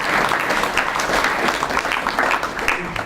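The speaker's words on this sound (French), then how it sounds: "On peut l'applaudir aussi" An audience at a sports awards ceremony in Montpellier applauds a medal winner, giving a short burst of steady, close clapping mixed with faint crowd murmur.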